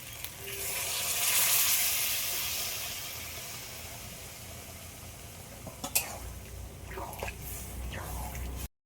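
Boiled dal water poured into sizzling meat masala in a pan, a loud hissing burst of steam that swells then fades into a softer bubbling sizzle, with sharp clinks of utensils near the end.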